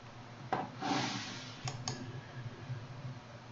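A few sharp clicks from a computer mouse or keyboard while installing software, spaced out and close up over a quiet room background.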